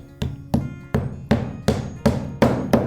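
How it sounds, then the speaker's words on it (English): A hammer drives nails into roof shingles in a steady rhythm, eight sharp, ringing blows spaced about every third of a second, loud and close with no talking. "if you see where I'm nailing, every shingle"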